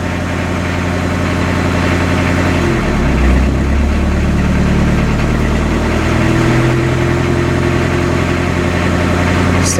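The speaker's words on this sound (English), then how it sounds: "I don't know if it's ever idled that low when I started it." A 1986 Ford Escort wagon's 2.0L diesel engine idling low after starting, a loud, close, steady clattering drone that shifts slightly in pitch midway as the throttle is touched.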